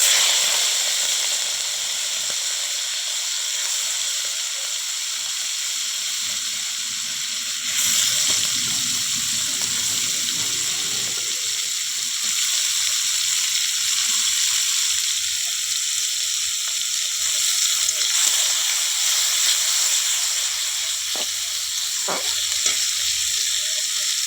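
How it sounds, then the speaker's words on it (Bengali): Prawns fry in hot oil left over from frying rohu fish, giving a steady, close sizzling hiss that runs unbroken for over twenty seconds, with faint stirring and no talk. "তো চিংড়ি মাছটা ভেজে নেব।"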